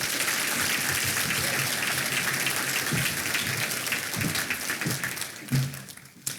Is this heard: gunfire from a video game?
no